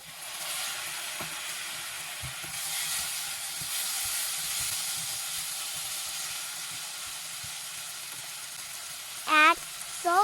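Chopped tomato and ground spices fry in a pan over medium heat for an egg do pyaza curry, a steady close hiss and sizzle throughout, with a brief voice near the end.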